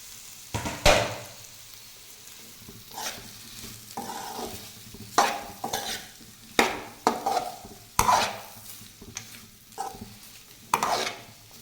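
Chopped potatoes frying in a pan under a soft sizzle, broken by about a dozen loud scraping strokes of a spoon stirring at an irregular pace.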